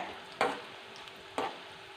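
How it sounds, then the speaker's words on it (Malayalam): Mango pieces fry in oil for a mango pickle with a steady close sizzle, broken by two sharp stirring or scooping clatters about a second apart, with no talking. "ഫ്രൈ ആയി കഴിയുമ്പോൾ ഇത് നമുക്ക് മാറ്റാം"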